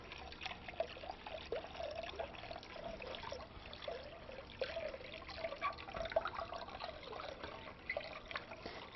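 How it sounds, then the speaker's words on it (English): Water pours steadily into a pot for pickling brine with a continuous trickling, gurgling splash that stays fairly soft and even, heard alone without talk. "stir in 8 cups of water"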